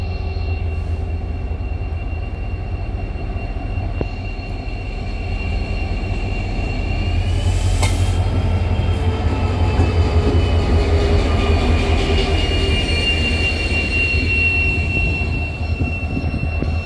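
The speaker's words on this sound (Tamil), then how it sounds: "கொள்ளத்தை நோக்கி 12:10 கிளம்பிருச்சு." A Hubballi–Kollam Diwali special train departs the station, its loud steady rumble of wagons rolling past with a sustained high wheel squeal and a brief sharp burst near the middle, no voices.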